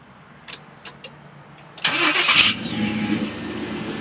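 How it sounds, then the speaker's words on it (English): A Jeep CJ5 fitted with a 5.3L engine and a new dual-tailpipe exhaust cranks, then catches and fires up loudly, settling into a rough, throaty idle close by, with no talking. "I'm sure everybody is interested to hear this thing fire up with the new exhaust."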